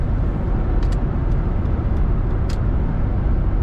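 Inside a 1995 Cadillac Fleetwood Brougham cruising at 55 mph, a steady, smooth low road and engine hum carries throughout, with a few faint high ticks or squeaks.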